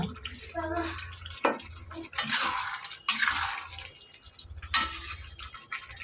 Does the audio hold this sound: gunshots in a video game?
no